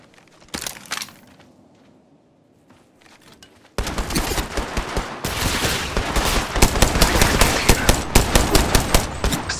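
Video game gunfire: a few scattered shots and quiet rustling, then a sustained, loud automatic volley of rapid cracks that keeps going to the end.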